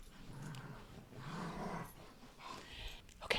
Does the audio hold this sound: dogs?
yes